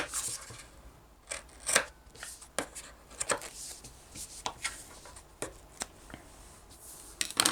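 Scissors trim the fabric corners of a cross-body bag with a series of short, crisp snips at uneven intervals, close by and fairly quiet, mixed with light fabric handling.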